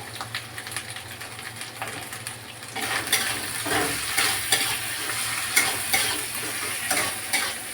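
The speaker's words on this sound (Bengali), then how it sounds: "এই কারণে আমি তেলে টমেটো দিয়ে দেবো" Tomatoes with a little salt hit hot oil and start sizzling loudly partway through, with stirring and a steady close frying hiss after a quieter opening.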